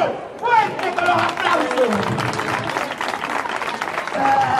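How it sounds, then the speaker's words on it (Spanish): Audience at a magic show bursting into applause, a loud continuous wash of clapping with crowd chatter and a performer's voice speaking over it. "Señores, ¿van a aplaudir o no?"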